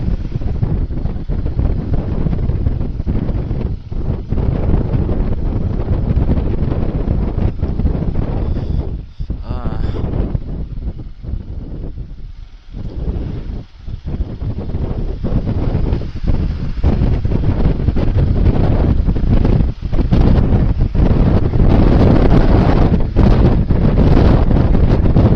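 Strong, cold wind roars across the microphone on a Himalayan motorbike ride. The loud, continuous buffeting eases briefly near the middle, then builds again.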